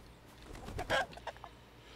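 Chickens in a video game give a short burst of clucking, a few quick soft calls bunched near the middle of a brief, otherwise quiet moment.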